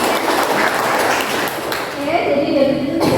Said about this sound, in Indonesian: Beri tepuk tangan untuk Iskotin.